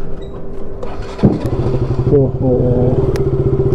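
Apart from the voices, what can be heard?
motorcycle engine starting and riding off after service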